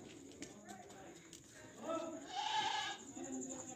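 A goat that has just given birth to a male kid lets out faint bleats mixed with shuffling farmyard sounds, while a person talks nearby for much of the time.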